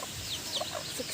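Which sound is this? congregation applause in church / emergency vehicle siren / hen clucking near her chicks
hen clucking near her chicks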